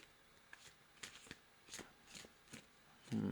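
Angel oracle cards shuffled by hand for a reading, a series of brief riffling bursts spaced about half a second apart, close and fairly quiet, with a louder rustle at the end.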